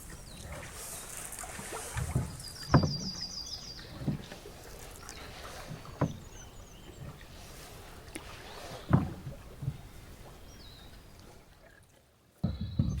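Canoe paddled across calm water on a spring trip, with several distinct paddle strokes splashing and dripping at irregular intervals over light wind and faint bird calls.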